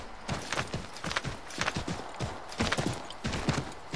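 Horse hooves clip-clop in the Assassin's Creed III video game, a quick, regular trotting rhythm of crisp hoof strikes, close and moderately loud, continuing steadily throughout.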